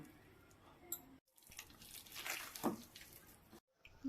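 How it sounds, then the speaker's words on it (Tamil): Water is sprinkled onto flattened-rice (aval) vada dough in short, quiet bursts, with brief pauses between, close by in a calm kitchen. "லைட்டாக கொஞ்சம் தண்ணி தெளித்து இந்த மாதிரி நல்லா பிசைஞ்சிக்கலாம்"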